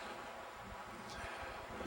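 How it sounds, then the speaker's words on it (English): Wind rushes through trees at a mountain rest stop near Carson City, Nevada, a faint, continuous broadband roar with low gusting rumble and no voices. "The wind is howling or shishing, screaming, I guess, I don't know, through the trees here."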